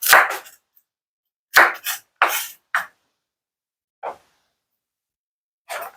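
A knife cuts raw steak meat on a board in a few short, separate strokes, each a close, crisp scrape or chop, with long silent gaps between them.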